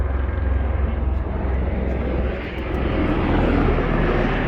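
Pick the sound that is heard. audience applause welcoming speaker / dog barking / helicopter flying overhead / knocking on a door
helicopter flying overhead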